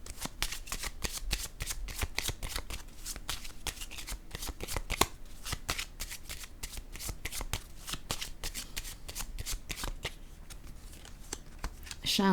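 A deck of cards for a tarot-style reading is shuffled steadily, a rapid continuous riffle of crisp card flicks close to the microphone, with a faint voice underneath at times.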